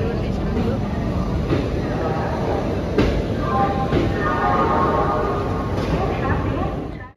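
A passenger train on the Kolkata to Kalka route pulling out and running, heard from on board as a steady rumble with rail knocks and a faint squeal, while a voice talks over it.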